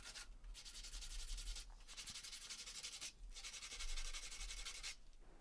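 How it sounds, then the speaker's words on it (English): Scrap wood, grooves included, is sanded by hand in steady back-and-forth strokes, a close, continuous gritty rasp with brief pauses between passes and no talking. "I gave everything a quick sanding down, and I also sanded in those grooves too."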